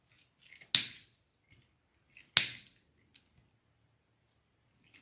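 Two sharp, close snips of scissors trimming deco mesh for a sunflower wreath, spaced well apart in a quiet room with faint rustling between cuts.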